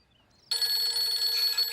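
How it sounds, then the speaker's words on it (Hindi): After a brief quiet moment a telephone suddenly starts ringing loudly, a bright, sustained electronic bell trill that carries on unbroken to the end. "किसका फोन आ रहा है भाई?"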